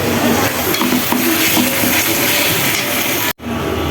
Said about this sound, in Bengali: যে মশলাটা ভালোভাবে কষিয়ে নিচ্ছি